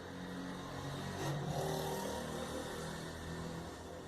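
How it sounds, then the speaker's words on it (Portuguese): Street traffic with cars and motorcycles passing, a steady distant engine whoosh that swells briefly as a vehicle goes by. "passa muita moto e muito carro na rua"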